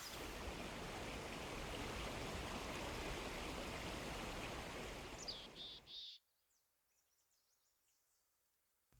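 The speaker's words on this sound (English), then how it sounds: "water runs strong from the snow and ice melting on the slopes and falls in a glorious variety of cascades" A mountain stream fed by melting snow and ice pours down in cascades, a steady loud broadband rush that cuts off abruptly near the end, leaving faint chirping birds in near quiet.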